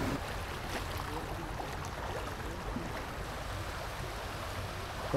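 A small boat motors across open water toward the jetty at Khar Danda, its steady engine drone and water rush holding an even level throughout, with no voices.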